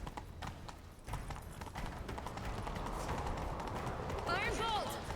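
Horses gallop in The Witcher 3, a rapid clip-clop of hooves building and running steadily under the in-game soundtrack and ambience, with characters talking over them.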